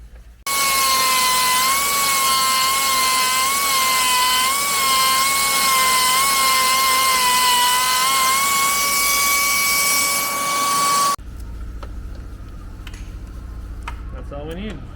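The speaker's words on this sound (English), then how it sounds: "I'll take the die grinder, just clean it up, just widen it a little bit" A die grinder widens an opening in an aluminum piece with a loud, steady high-pitched whine that wavers slightly under load for about ten seconds, then cuts off, leaving quieter handling sounds.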